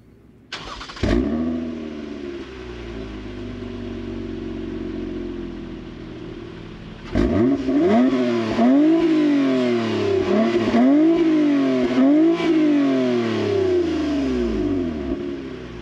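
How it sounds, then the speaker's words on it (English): A 2022 Toyota Camry TRD V6 with its sport exhaust cranks and fires up, settles into a steady idle, then barks through a series of sharp, loud revs close by. "TRD gives you a specific tuned exhaust. It's a sport exhaust. It actually sounds pretty good."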